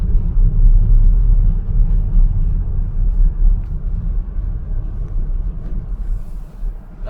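A VW Multivan driving through alpine villages on the way to a mountain pass, with a loud continuous low engine and road rumble heard from inside the cabin.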